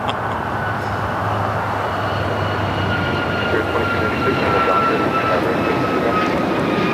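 A United Airlines Boeing 737 MAX 9 bound for Dallas rolls at LAX, its jet engine roar steady and loud across the whole stretch, with a low rumble underneath and faint talk in the background.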